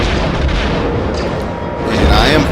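Star Wars Rogue Squadron 3D game audio plays a dense, loud barrage of blaster fire and booming explosions, continuous and steady throughout the short stretch.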